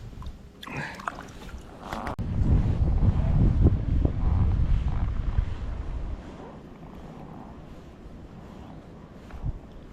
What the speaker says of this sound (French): le vent me pousse